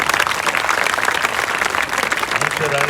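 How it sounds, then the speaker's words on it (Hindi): An audience claps loudly and steadily in sustained applause, dense and continuous, with a voice faintly audible near the end. "जोरदार ताली बजाओ"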